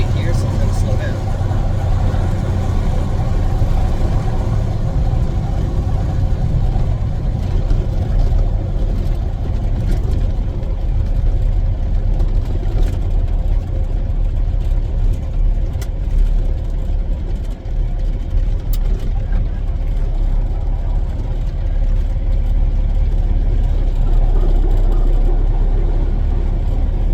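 A Kenworth T800 truck cruising in tenth gear gives a continuous low engine and road drone heard from inside the cab, with someone talking over it as the truck eases off to slow down.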